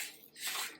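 Water pours into a bowl of attieke in a brief, steady splashing rush close by, with no talking.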